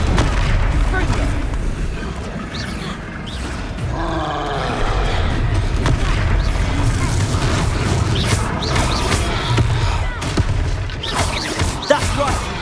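In the Hogwarts Legacy video game, Confringo spell blasts land as heavy booms amid a chaotic battle with roaring, grunting combatants, dense and loud throughout, while voices shout over the fight.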